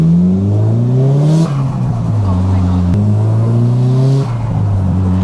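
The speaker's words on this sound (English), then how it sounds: "down low, you do get that initial snap and kick, which I'll show you guys. It's pretty responsive, this T28 turbo." A Nissan S15 Silvia with a T28 turbo pulls hard through the gears from inside the cabin, its engine note climbing in rising sweeps, dropping at each upshift, then climbing again, loud and continuous, with a voice talking over it.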